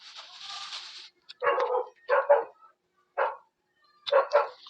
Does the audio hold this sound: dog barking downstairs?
yes